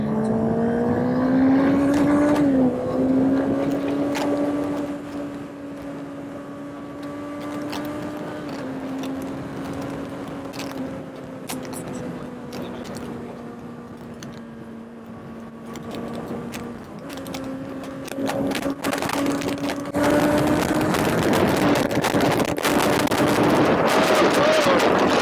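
A 2024 Kawasaki Ninja ZX6R 600cc motorcycle engine runs steadily with a loud, continuous droning hum, the pitch wavering slightly and rising briefly before settling, with a harsher surge of revving near the end.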